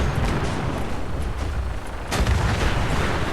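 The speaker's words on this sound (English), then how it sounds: "Oh, that's a minigun." Minigun fire in Fallout 4, a continuous dense roaring burst of rapid shots that stays loud throughout, with a heavier surge near the end.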